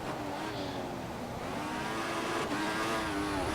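A Formula 1 race car in F1 2014 slides through a corner with oversteer, its engine droning loudly with rising and falling revs as faint tire squeal runs underneath.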